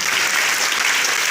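Dense, loud audience applause fills the whole short stretch at a felicitation ceremony held by an education group to honour a revered spiritual leader, steady and continuous with no talk over it.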